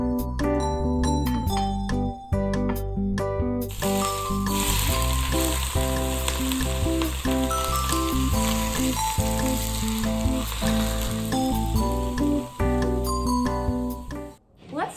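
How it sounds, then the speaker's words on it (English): Hot oil crackles and sizzles loudly and steadily over chopped scallions, a dense frying hiss continuing throughout, with background music playing. "Let's watch as the scallions sizzle, turn bright green, and wilt almost immediately."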